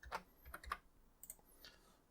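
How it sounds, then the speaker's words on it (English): Quick keystrokes on an Amstrad CPC keyboard: a handful of light, uneven clicks and taps, close and fairly quiet, with no voices. "So let's type our little bit of code again."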